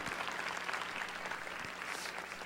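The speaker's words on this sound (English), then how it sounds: "Can we give them another applause?" A conference audience at a plenary talk gives a round of applause, dense and steady clapping that sounds fairly distant and soft throughout.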